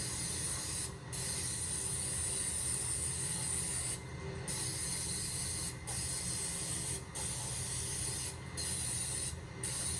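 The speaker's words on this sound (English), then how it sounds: "Let's spray it one more time." Aerosol spray hissing into a three-to-four-year-old angle grinder to clean out old grease, loud close bursts broken by several brief pauses, with no talking.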